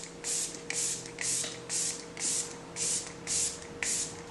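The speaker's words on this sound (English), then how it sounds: "So I'm gonna go ahead and spray a little bit of this on my face just to get the skin going." Facial mist spritzed onto the face during a makeup routine, a steady series of eight short, crisp hissing sprays in even rhythm, close and fairly loud with no talking.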